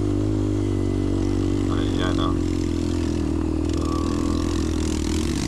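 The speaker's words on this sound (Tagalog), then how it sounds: "May power na motor." A motorcycle engine labours steadily uphill on a mountain trail at Mount Ugo, a constant close drone with a brief scraping rattle, while someone talks over it.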